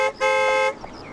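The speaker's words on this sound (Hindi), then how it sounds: "अरे हॉर्न मारो ना भाई" A car horn honks twice on a street, first a very brief toot and then a longer, loud, steady blast of nearly half a second, close by.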